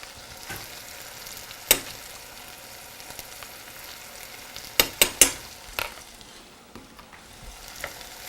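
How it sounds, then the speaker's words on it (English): A sautéing mixture with turmeric and coriander powder sizzles softly in a pan as a spoon stirs it, with several sharp scrapes and knocks against the pan, close and without talk. "give it a good mix"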